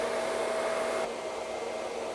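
A hair dryer blows on hair styled into a natural wave, a loud, close, steady whooshing roar with a faint whine that softens slightly partway through.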